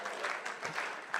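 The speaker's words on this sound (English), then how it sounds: "let's start that slow clap out for Christy" A crowd's slow clap for Christy, brief and fairly quiet, with a handful of separate claps spaced out at an unhurried, loose rhythm over a soft background murmur.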